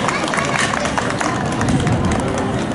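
An audience at the 1st Nepal Festival Kansai 2025 applauds for poet Rabin Sharma: dense, continuous clapping from a large crowd, close and steady, with murmuring voices mixed in.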